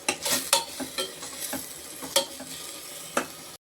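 Ginger, garlic, green chilli, mint and coriander sautéing in a pan for pea rice: a soft sizzle broken by sharp, irregular spatula scrapes and clinks against the pan, close by and without talk.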